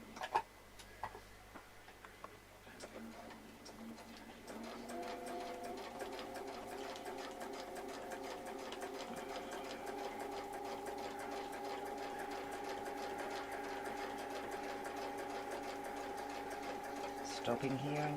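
Sewing machine quilting along a curly-q template, starting after a few seconds and running steadily and quietly for the rest of the clip with a fast ticking needle rhythm.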